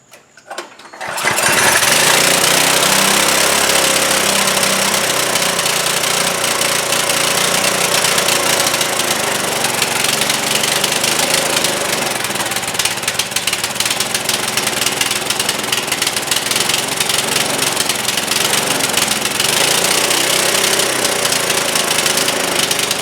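A Trailmaster go-kart's small engine runs with the choke open, a loud, steady rattling drone that starts after a brief moment and holds throughout with no talking.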